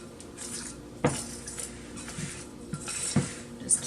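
A utensil stirs baking powder biscuit dough in a bowl, giving soft, quiet scraping and a couple of sharp clinks against the bowl at irregular moments, close and without voices.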